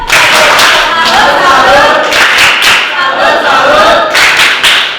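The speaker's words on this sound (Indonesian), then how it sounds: "Ya, tepuk salut untuk kelompok 2." A classroom of students claps a rhythmic salute in short bursts of sharp hand claps, with voices mixed in between and under the clapping.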